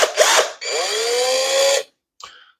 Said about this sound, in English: So it's a hammer drill.